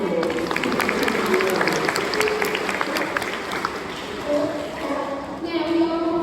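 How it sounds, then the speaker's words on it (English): An audience at a sea lion show applauds, a dense steady round of clapping from a crowd that continues throughout, with a few scattered calls over it. "give them a big round of applause"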